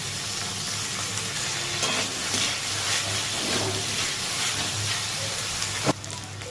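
Chicken frying in a wok, with a continuous close sizzle and hiss under occasional stirring scrapes, and one sharp clank near the end.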